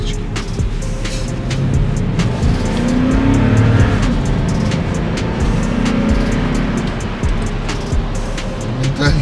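Large, tall car engine accelerating hard from inside the cabin, a loud sustained roar with low rumbling tones that build and hold for several seconds.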